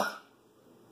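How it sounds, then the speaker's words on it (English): A single short cough bursts out at the start, then fades into quiet room hiss. "Sorry for the cough."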